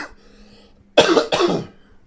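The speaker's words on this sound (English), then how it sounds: "wow, I coughed." A person coughs twice in quick succession, two loud, rough bursts close to the mic after a quiet pause.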